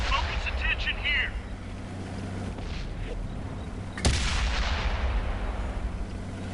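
A tank cannon in World of Tanks fires one sharp, booming shot in the middle of the clip. A rumbling engine and battle ambience run underneath, and a voice speaks over it.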